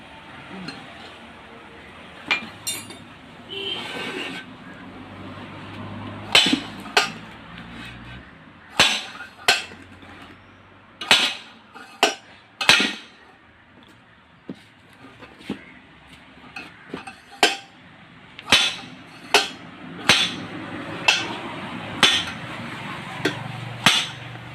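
A wheel seal is knocked out of a Hero Splendor alloy wheel with a hammer, producing sharp metallic strikes in irregular bursts, some close together, with quieter handling clinks between them.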